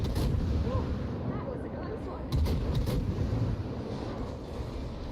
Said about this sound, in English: 3rd torpedo lands.